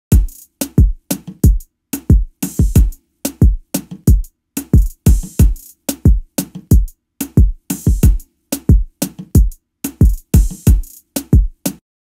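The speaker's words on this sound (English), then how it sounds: "And finally I brought in the kick to seal everything together, and that sounds like this." A Logic Pro zouk, kizomba and afrobeats beat with a kick drum added, looping steadily with punchy low thumps under sharp percussion hits, loud and close with no talking.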